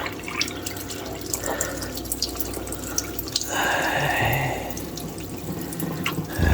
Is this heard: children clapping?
no